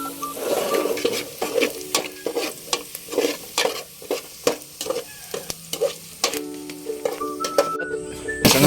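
Fried rice being stir-fried in hot oil: a steady sizzle broken by repeated sharp scrapes and clanks of a spatula against the pan, fairly close and with no voices.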